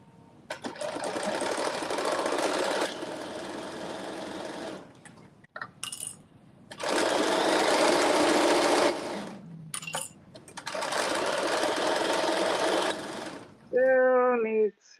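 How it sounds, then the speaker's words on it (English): A sewing machine runs loud, steady stitching bursts of a few seconds each on the end of a garment, separated by quieter pauses with handling noises and a brief voice near the end. "So I'm stitching the very end."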